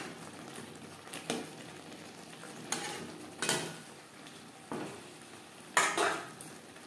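Fish being stirred in a pan with red chilli powder, metal utensil scraping and clinking in several distinct strokes over a faint low sizzle, close by with no talking.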